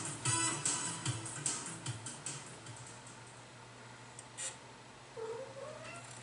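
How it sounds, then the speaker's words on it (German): A cat meows and caterwauls close by in a quiet room, with drawn-out cries against light clicking of a computer keyboard in the background. "Katzen."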